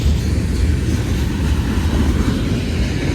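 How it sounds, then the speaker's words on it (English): BNSF freight train hauling grain cars rolls past near Mulvane, Kansas, a loud, steady low rumble of wheels and cars that fills the whole stretch without a break. "Both trains are hauling grain"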